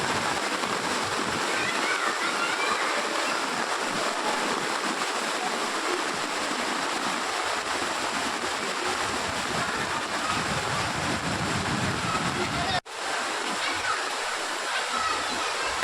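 Heavy floodwater after torrential rain rushes along a road in Kamalanagar, Hyderabad, strong enough to sweep away an auto-rickshaw; a loud, continuous roaring wash fills the scene, briefly cutting out near the end before resuming.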